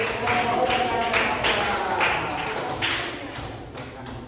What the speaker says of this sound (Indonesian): Oke, tepuk tangan dulu untuk